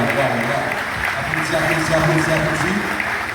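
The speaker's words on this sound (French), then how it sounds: "Applaudis" An audience at a ceremony honoring Haitian teachers applauds, a continuous crowd clapping beneath a speaking voice, with the applause steady and moderately loud throughout.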